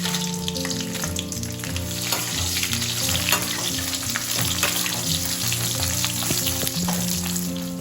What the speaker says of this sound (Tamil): இப்போ நான் வந்து இந்த மிளகா வத்தலையும் போட்டு வறுத்துக்க போறேன்